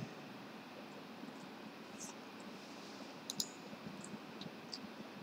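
Computer mouse clicking the Next button in the Mixamo web animation tool, a few faint, sharp clicks spaced over a steady low background hiss, with no voices.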